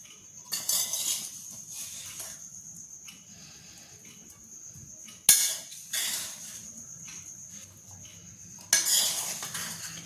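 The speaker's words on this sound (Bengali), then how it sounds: "একবার মিক্স করে নেব হালকা করে।" Biryani being lightly mixed in a pot before serving, a metal spoon scraping and clinking against the pot in several bursts with pauses between, close and moderately loud, over a faint background of insect chirping.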